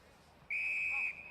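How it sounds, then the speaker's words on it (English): Umpire's whistle at an Australian rules football match between an AFL Academy side and Port Adelaide's SANFL team, a single sharp shrill blast of about half a second over faint crowd background. "There's a whistle."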